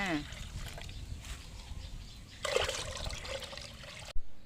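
A fertilizer mixture is poured into a ten-litre bucket of water, a steady trickling, splashing pour under a voice, ending with a brief knock.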